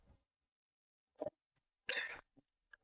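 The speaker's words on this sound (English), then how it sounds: "Excuse me, sorry that cough." A single sharp cough, then a second shorter burst and a couple of faint clicks, heard close and alone in a quiet lecture room.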